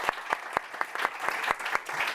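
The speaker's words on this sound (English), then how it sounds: "So a round of applause," Scattered, sparse clapping from a small audience applauding a panel, individual claps distinct and spaced irregularly, fairly close and moderately loud.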